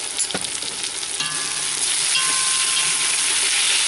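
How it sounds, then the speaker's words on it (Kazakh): Eggplant frying in a pan, a loud close hiss and crackle of hot oil with a stirring knock early on, building into a steady sizzle. "Тағы да 1 минут қуырамыз да"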